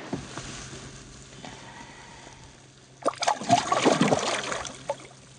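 A largemouth bass is slipped from a kayak back into the water, a sudden burst of splashing and trickling after a quiet stretch, close and brief.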